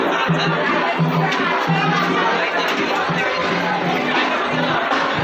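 A dense crowd outside Karla temple at Lonavala fills the air with continuous loud chatter and overlapping voices, steady throughout.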